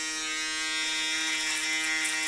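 An electric beard trimmer buzzes continuously at close range as it skims over a beard, a steady tonal hum with a slightly brighter edge toward the end and no speech.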